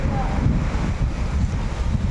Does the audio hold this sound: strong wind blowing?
yes